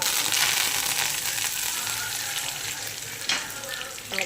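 Cumin seeds sizzling in hot oil as they fry to golden for an aakha masur dish, a bright steady crackle with a few louder spits and a stirring scrape near the end.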